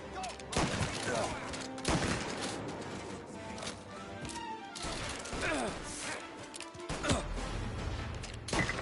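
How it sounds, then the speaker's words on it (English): Rapid bursts of gunfire in the video game Mafia: Definitive Edition crackle repeatedly over a dense, noisy background, with brief pauses between volleys. "Gunshots heard. Please respond."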